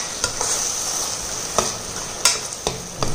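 A thick paste of onion, fenugreek and cumin sizzles quietly in oil in a pan for a fish curry, with a few sharp scrapes and clicks of a spoon stirring it.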